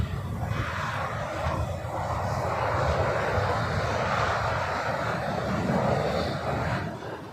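Steady, loud aircraft engine roar from a C-17 military transport at LAX, a broad continuous rumble holding for several seconds with no voices.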